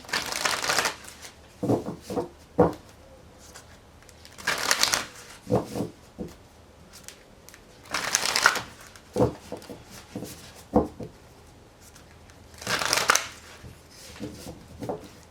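A deck of Angels and Ancestors Oracle cards is shuffled by hand. Four separate riffling bursts are close and crisp, with soft taps and quiet pauses between them.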